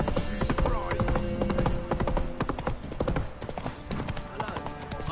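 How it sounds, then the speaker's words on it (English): Horse hooves clip-clop steadily on ground in The Witcher video game, close and rhythmic, with a horse whinny and game characters talking over the footsteps throughout. "Whoa there, Roach"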